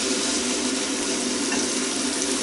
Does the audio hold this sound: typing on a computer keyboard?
no